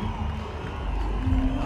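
A cricket stadium crowd cheers for a boundary struck toward extra cover by Akhil Akkineni of the Telugu Warriors. The roar is a broad, sustained wash of distant voices that swells slightly toward the end.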